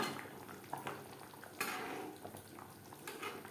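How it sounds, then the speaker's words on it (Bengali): A spoon stirs Bengali-style fish curry with potatoes in a pan on a gas stove, giving quiet scrapes and clinks against the metal over a soft simmering bubble, close and fairly faint. "এক মিনিট নাড়াচাড়া করে নেওয়ার পর গ্যাসের ফ্লেমটা অফ করে দেবো"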